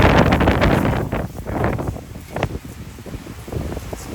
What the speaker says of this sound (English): it's windy here, crazy winds, crazy storms